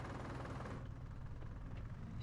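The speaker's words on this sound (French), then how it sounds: "Oh, le bruit du tracteur, écoutez." Tractor engine in a farming video game, a steady low rumbling drone that runs throughout at moderate level, with rough, knocking texture and no talk over it.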